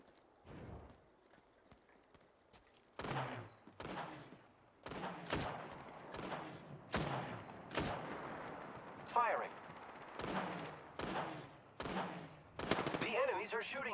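Repeated bursts of gunfire in Apex Legends Mobile, a dozen or so sharp volleys in quick succession, fairly close and loud against a quiet background.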